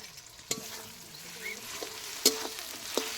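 Spice masala with chili being stir-fried in oil, a soft steady sizzle broken by several sharp scrape-and-stir clicks of a utensil against the pan, close by and fairly quiet.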